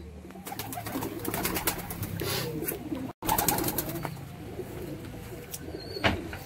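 Giribaz pigeons coo in a loft, a soft, continuous chorus of low, throaty calls from several birds close by, with light rustling and a few sharper chirps, no voices.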